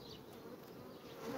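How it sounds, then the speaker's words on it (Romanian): Forager honeybees buzzing at a hive during hot weather, a soft continuous drone of many insects with no speech. "această albină culegătoare"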